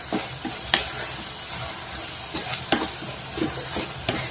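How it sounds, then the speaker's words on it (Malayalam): Paneer burji masala with onion, tomato, garam masala and black pepper powder is stirred in a hot pan. Scraping spoon strokes come every second or so over a steady sizzle. "നമുക്ക് നല്ലതായിട്ടൊന്ന് ഇളക്കി കൊടുക്കാം."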